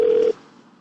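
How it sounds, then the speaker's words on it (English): A single answering machine beep, a steady electronic tone lasting about a third of a second, cuts off abruptly into faint room hiss. "At the tone, please record your message."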